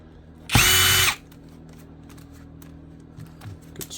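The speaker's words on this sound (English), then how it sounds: "These screws are actually coming out with this." A power drill whirs loudly in one sustained burst of about half a second, backing screws out of an old, grimy smoker's computer during e-waste scrapping, then quiet handling noises follow.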